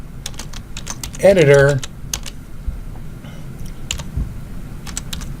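Rapid clicks from a computer keyboard as a comment is typed in a code editor, close and crisp, with a short spoken word breaking in partway through before the keystrokes carry on.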